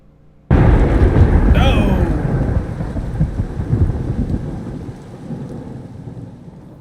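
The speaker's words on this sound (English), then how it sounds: "Thunderclap." A sudden thunderclap in the Kerbal Space Program video game bursts in loud and close, then rolls and rumbles away slowly amid steady rain.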